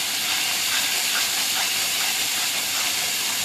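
Garlic and green chillies fry in a pan in a dense, even hiss that runs unbroken and fairly loud for a few seconds, with no voices.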